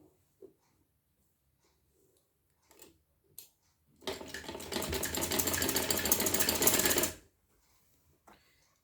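A sewing machine stitching kurti fabric runs in one loud continuous burst of about three seconds, preceded and followed by quiet handling clicks and faint taps.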